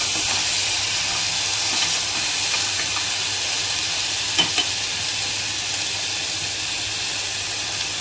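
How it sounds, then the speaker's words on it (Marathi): Onion and moth beans sauté in a pan with a steady, soft sizzling hiss throughout, broken by a couple of faint stirring taps and no voices. "कांदा छान परतल्यानंतर त्याच्यात मटकी ॲड करून त्याला पण 1 ते 2 मिनिटं छान परतून द्यायचं आहे."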